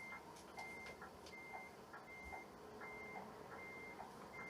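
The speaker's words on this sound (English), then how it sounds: "Oh, backup alarm on, hazards on," Truck backup alarm beeping steadily at a regular rhythm as the truck reverses, with hazard lights and beacons on, heard alone at a moderate level over low engine rumble.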